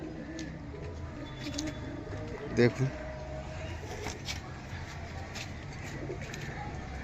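Old pigeons at a sale give soft, low coos, with a brief throaty burst near the middle, under men's conversation in the foreground.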